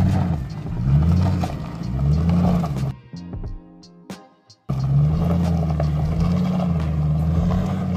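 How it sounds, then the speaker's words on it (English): An old truck that had sat in the woods for over 25 years is driven by an 11-year-old, its engine droning and revving loudly near the microphone, cutting out briefly before returning at full volume. "Coey wanted to drive his truck."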